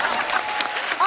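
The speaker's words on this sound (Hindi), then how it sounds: "आपने ताली क्यों बजाई?" A studio audience at a comedy talk show claps in a brief, dense burst of applause, fairly close, under light talk.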